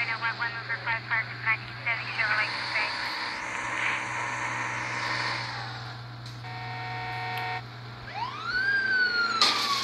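Police siren chasing the player in GTA V mobile, wailing and yelping tones rising and falling with engine and game sounds, fairly loud and continuous.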